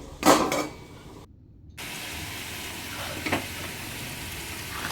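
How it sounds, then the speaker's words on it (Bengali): Chicken pieces are tipped into a pan of spices and frying, starting with a loud clatter, then a steady, moderate sizzle that continues with a few faint scrapes of stirring. "মশলাটা কষে গেছে, এখানে মাংসটাকেও দিয়ে দিলাম। তো দেওয়ার পরে অনেকক্ষণ কষাতে হবে"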